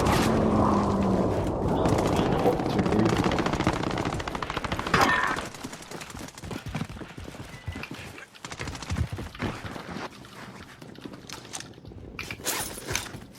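Rapid machine-gun fire in the Call of Duty Warzone video game, a dense rattling burst for about five seconds, followed by scattered shorter shots and mechanical clatter.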